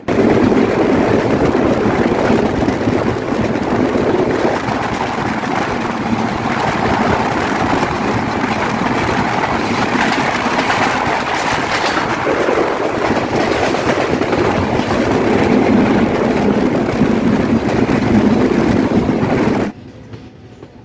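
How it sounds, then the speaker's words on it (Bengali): A diesel locomotive hauling the Rupsha Express in Bangladesh roars along, its engine drone and rolling wheels loud and continuous, gathering pace after a speed-restricted section before cutting off abruptly at the end. "রেস্ট্রিকশন এরিয়া পার হয়ে এসে ট্রেনটি খুব দ্রুতই তার গতি তুলে ফেলে"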